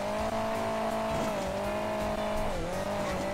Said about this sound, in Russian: Он все равно газует каким-то образом